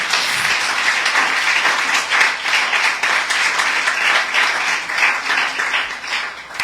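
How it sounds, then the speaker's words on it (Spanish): Church congregation applauds during a Spanish-language worship service, a full steady wave of clapping that swells and tapers slightly toward the end, loud and enveloping. "Puedes dar un aplauso al Rey de Reyes, iglesia."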